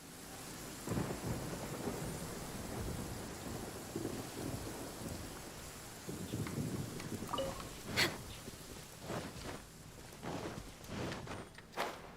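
Rain falling on a courtyard in Genshin Impact, with a soft steady patter and several rumbling thunder rolls and a sharp crack near the middle, heard alone at low volume.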